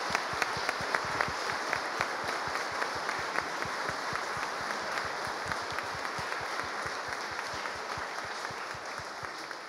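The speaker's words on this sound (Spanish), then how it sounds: "con mucha alegría vamos a dar un aplauso a la Pascua del Señor" A church congregation claps at an Easter Mass. The applause is steady and fairly distant, with some sharp individual claps falling into a loose rhythmic beat, and it carries on for the whole stretch without anyone speaking.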